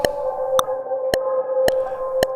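Tempo-synced echo from the Aura reverb plugin on a sustained tone, with sharp clicky pulses repeating at an even beat about every half second over a steady droning note, no voices.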